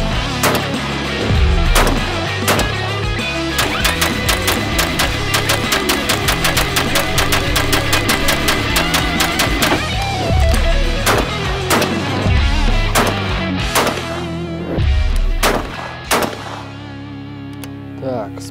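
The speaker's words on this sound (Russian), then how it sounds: "С моей стороны сделано еще 50 выстрелов." An Altobelli Turkish double-barrel shotgun fires a long run of loud, sharp reports, mostly in quick pairs with short pauses, outdoors and close, with a faint voice underneath.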